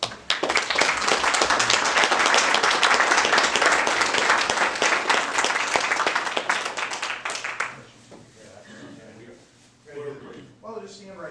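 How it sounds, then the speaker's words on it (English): Applause for the Mustangs at a Pasco city council meeting: a roomful of people claps loudly and steadily for about seven seconds, then it fades into a quieter room with scattered voices and movement. "We're going to probably give you a couple rounds of applause"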